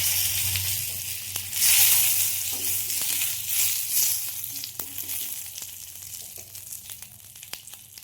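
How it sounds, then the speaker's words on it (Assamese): Cumin seeds and bay leaves frying in a little hot oil for a fish dish, a soft continuous crackling sizzle with light scattered pops and occasional stirring, close and fairly quiet, with no voices. "অকণমান তেলত জিৰা দিলোঁ"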